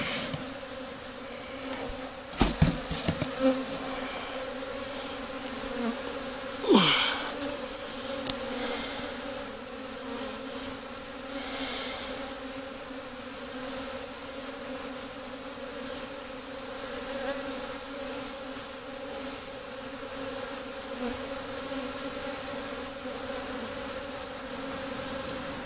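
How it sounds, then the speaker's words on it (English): A swarm of honey bees hums continuously, a dense steady drone with a few louder buzzes of individual bees passing close by, and no talking. "They really do seem to be very gentle bees, very nice bees."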